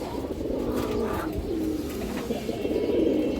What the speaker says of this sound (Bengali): এই যে দেখেন ডাকটা দেখেন কবুতরের